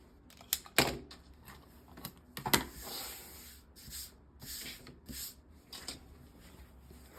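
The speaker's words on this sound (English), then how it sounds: "and trim the other edge." A rotary cutter trims the edge of a fabric braid strip for a friendship braid quilt, with several sharp, close cutting strokes and crisp scrapes against the mat, spread unevenly through a quiet room.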